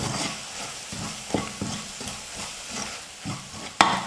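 Onion and masala sauté in a pan over a medium flame for an egg samosa filling, with a steady soft sizzle and rhythmic scraping strokes of a spoon stirring close by.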